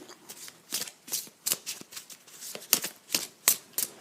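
A deck of cards is shuffled close by in a series of crisp riffles and snaps, repeated roughly every half second with short pauses between, alone without talk.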